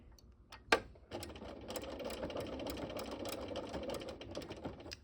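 A sewing machine stitching invisible machine appliqué through bulky seams, a steady close mechanical whirr running after a brief start-up thump.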